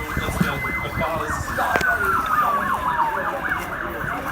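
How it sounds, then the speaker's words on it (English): An ambulance siren wails past outdoors at sunset, its rising and falling tone sliding downward as it goes by, loud and close over street noise. "Pretty sure that's an ambulance."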